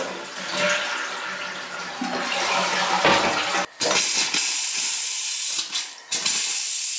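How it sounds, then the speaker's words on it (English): Water rushes and hisses steadily as it drains through opened plumbing valves while a large house is winterized, a constant gushing flow with a few brief gurgling breaks. "we'll open these valves and let a little push the water out"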